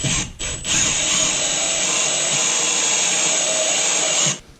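A power drill bores a mold-filled hole wider in a plastic rock guard with step for a 2024 Polaris Ranger XP 1000, running as one steady, loud high whine for about four seconds after a couple of brief starts, then stopping.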